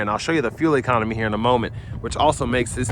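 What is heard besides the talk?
No everyday noises stand out.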